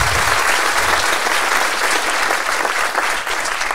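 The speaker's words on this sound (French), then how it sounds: "On peut l'applaudir, s'il vous plaît." A studio audience at a French comedy talk show breaks into sustained, loud applause, a dense wash of clapping hands that fills the whole stretch with no speech over it.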